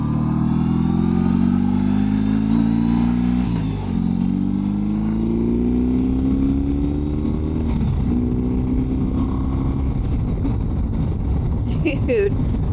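Motorcycle cruising on a highway, the engine droning loudly and steadily with rising pitch sweeps as it accelerates and shifts, wind rushing throughout while a rider talks.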